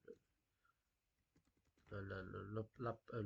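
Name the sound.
typing CD command on a computer keyboard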